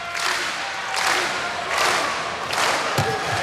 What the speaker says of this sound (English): here's a strong, well-deserved ovation from the crowd